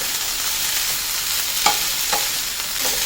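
Broccoli stir-fried in a little oil with salt, oregano and chilli flakes, a steady close sizzle with a few sharp spatula scrapes against the pan.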